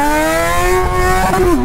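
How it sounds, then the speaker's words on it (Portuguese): A Yamaha XJ6 motorcycle engine holds a loud, steady revving tone up close, then the pitch dips near the end. "Mano, só de acelerar essa moto ela sobe, Zé."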